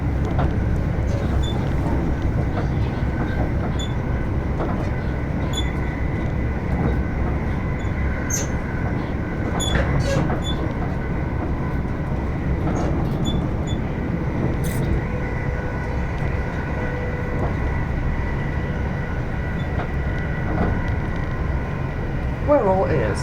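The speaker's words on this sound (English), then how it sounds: "I'm on the train." Inside a Greater Anglia train running from London Liverpool Street to Southend Victoria, a continuous rumble of wheels on track with occasional clicks and short squeals, and indistinct voices under the noise.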